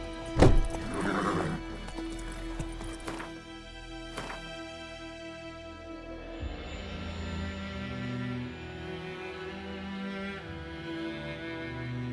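A horse in The Witcher 3 whinnies loudly near the start, then hooves clip-clop steadily at a trot under soft game music for the rest of the stretch.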